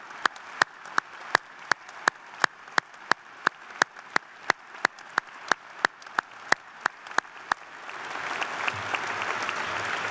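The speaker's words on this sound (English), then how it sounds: "Please join me in a round of applause for this impressive group." Applause at a university commencement for valedictorians, beginning as sharp, evenly spaced single claps close by, then swelling into a broad, dense wash of clapping from the audience in the final seconds.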